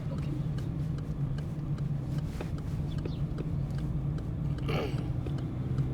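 Car engine droning steadily inside the cabin as a learner driver shifts gears, a low continuous hum with small clicks and a brief rise near the end, no talk.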